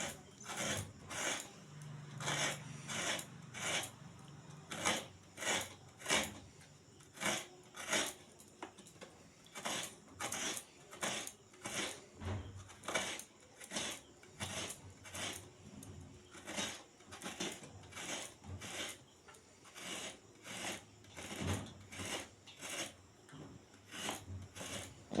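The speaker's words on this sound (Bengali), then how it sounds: "নারকেলগুলো কুড়ে নিচ্ছে এবার। খুব ধৈর্য ধরে ছোট ছোট করে নারকেল" Fresh coconut is grated by hand into small pieces, producing a long series of short, evenly spaced rasping scrapes, roughly one per second, close and fairly crisp against a quiet background.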